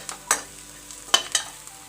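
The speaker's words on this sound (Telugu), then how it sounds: "ఇలాగా గరిటితో కొంచెం నలుపుకుంటూ కలిపితే కలిసిపోతుంది" A ladle scrapes and mashes onion and garlic paste in a pan, giving three or four short, sharp scraping strokes over a faint low sizzle, close by.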